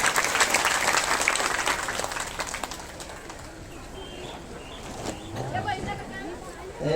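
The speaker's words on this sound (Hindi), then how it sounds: "ताली बजाकर उनका सम्मान करो" An audience at a religious gathering claps to honor a donor, a dense burst of applause that fades over a few seconds, followed by crowd murmur and bird cooing nearby.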